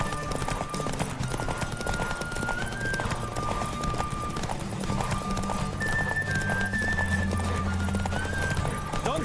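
Rapid, rhythmic hoofbeats of a galloping horse in The Witcher 3: Wild Hunt race along steadily, with a whinny and a steady music bed underneath.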